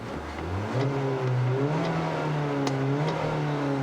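A 1.6-liter turbocharged gasoline direct-injection engine in a 2017 Kia Forte5 SX Turbo hatchback revs repeatedly, its pitch rising and falling in a loud, close, steady drone with no voices.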